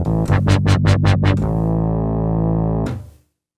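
A clean synth bass track in Reason 6 with no Pulverizer distortion plays a loud pulsing riff that settles into a sustained held note, then fades out, with no voices present.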